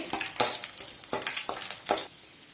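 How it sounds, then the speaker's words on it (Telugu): Chopped ginger fries in hot oil for a ginger chicken fry, with a close crackling sizzle and several sharp bursts as it is stirred before the sound drops away. "ఇలా అల్లం వేసుకున్న తర్వాత ఒక రెండు నిమిషాల పాటు బాగా ఫ్రై చేసుకుందామండి ఈ అల్లంని ఈ నూనెలోనే"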